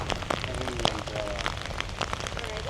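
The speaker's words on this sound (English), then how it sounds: "But it's raining so hard, there is just puddles everywhere." Heavy rain pours steadily in an outdoor palace rose garden, with dense spattering drops on puddles and hard surfaces close by, continuous and even throughout.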